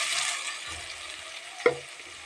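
Ground capsicum paste hits hot oil with sautéed onions for a chutney, giving a close, hissing fry with stirring, a brief clink of a utensil near the end, and no talk.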